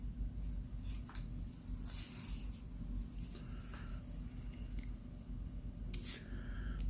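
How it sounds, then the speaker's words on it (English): Someone works a tool against the case back of a Grand Octane 0335 wristwatch with a Swiss Ronda 8040N quartz movement, producing short scraping hisses and small clicks over a low background hum, close up and without speech. "Now I'm going to open the case back."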